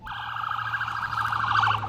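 Ambulance and police sirens race toward a high school in Barrow County, Georgia, giving a loud, warbling wail that wavers steadily and grows slightly louder as the vehicles approach, over a low traffic rumble.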